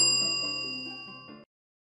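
A single bright notification bell ding rings out with clear metallic overtones and decays smoothly over about a second and a half, then is cut off, heard alone.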